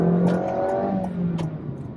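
A Honda Jazz Crosstar e:HEV hybrid accelerates to overtake, its engine rising in a smooth, moderate hum with steady harmonic tones heard from inside the cabin, fairly quiet and briefly swelling.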